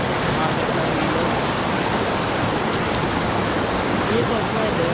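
A strong river current rushes steadily over rocks, a dense, loud, unbroken roar of water that fills the whole stretch without pause.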